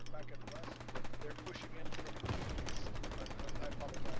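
Rapid bursts of automatic gunfire from the World War II shooter Hell Let Loose crack repeatedly, some close and sharp, others more distant, forming a dense rattling barrage with a low rumble underneath.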